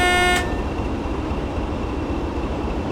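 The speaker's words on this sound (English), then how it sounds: "The AWS on this thing is really loud." Warning horn of a Class 20 locomotive's AWS in Train Sim World on the WCML between Preston and Carlisle, a loud steady tone ending sharply after a fraction of a second, followed by rumbling train running noise.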